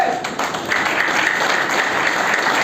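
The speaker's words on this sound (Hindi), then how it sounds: "एक बार मन्नू जी के लिए दिल खोल के ताली हो सकती है क्या?" A live audience claps for Mannu ji in a seminar hall, a dense, steady burst of applause lasting the whole moment, loud and close with no voices.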